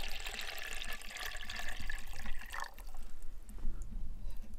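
Cup of water poured into a water fuel separator, a steady splashing trickle of liquid that fills the whole stretch, fairly close and without talk.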